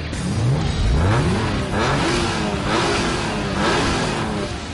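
A British TVR 350 with 350 brake horsepower, a Honda NSX and a Porsche 911 launch side by side in a drag race, engines revving loud and close with rising and falling pitch sweeps as they accelerate off the line.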